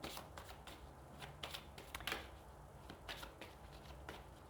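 Tarot cards being shuffled close up and quietly, a run of quick riffling flutters and soft slaps in an uneven rhythm.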